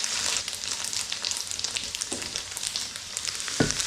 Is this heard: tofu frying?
yes